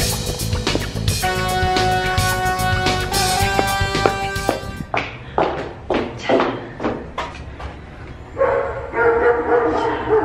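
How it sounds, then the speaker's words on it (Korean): Several dogs, including a very large one, bark and yip repeatedly nearby at a house in Dallas, Texas, deep woofs mixed with higher yelps, over steady background noise with some rhythmic clatter. "여기 강아지가 아주 큰 강아지가 살아서 조금 여러분이 놀라실 수도 있어요"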